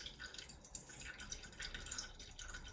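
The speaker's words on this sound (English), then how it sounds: "And I'm going to twist that as the liquid drops out." Liquid drips steadily from a twisted cloth holding homemade natural ink, a soft close patter of small drops with no voices.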